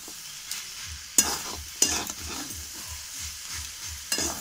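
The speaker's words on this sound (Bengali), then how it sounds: "চলো একটু নাড়ে দিই এটা" Vegetable chorchori of aubergine, potato and peas being stirred in a pan, with scraping spoon strokes in a steady rhythm over a soft, continuous sizzle and a few sharper clatters.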